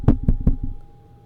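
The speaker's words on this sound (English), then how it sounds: "you've been knocking at your door the whole time." Three to four quick, hollow knocks on a door, close and fairly loud in a rapid burst, then a short fading ring, with no voices.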